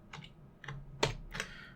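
Four quick, separate keystrokes tap on a computer keyboard while Vim navigation keys are used to move between windows, crisp and close but fairly quiet.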